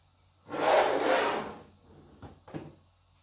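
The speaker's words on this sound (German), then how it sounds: "Schieben wir erstmal die Schrauben durch." Screws are pushed through the base of an Anycubic Kobra 3D printer during assembly, giving a close scraping rub of about a second followed by two short clicks.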